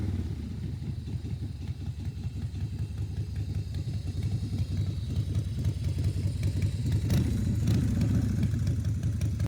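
A motorcycle engine from a Facebook Marketplace listing runs at a steady, rough idle with a fast, clattering pulse, heard close and continuous throughout.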